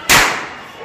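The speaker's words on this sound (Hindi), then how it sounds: "इतने मोटे मोटे बम फोड़ रहे हैं ना ये दोनों।" A large firecracker bomb bursts during Diwali celebrations: one sharp, loud close bang that rings out into a fading, hissing tail.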